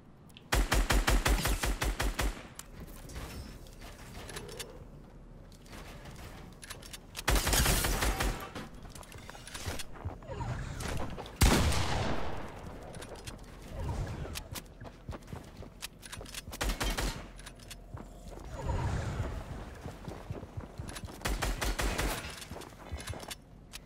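Rapid bursts of gunfire in an online shooter video game, with dense volleys at the start and repeated sharp salvos throughout, loud and close, interspersed with lighter footsteps and clatter.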